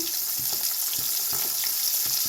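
Hilsa fish pieces fry in hot oil with a loud, continuous hiss, close by, while a soft knocking recurs every half second or so underneath.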